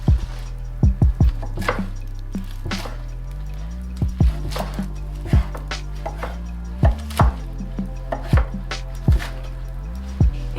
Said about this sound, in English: before I add in all the lettuce, I'm just going to chop it a little bit finer